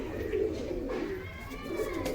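Pigeons coo in a low, continuous murmur close by, soft throaty calls rolling over a steady background of faint ambient noise.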